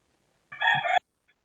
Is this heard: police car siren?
no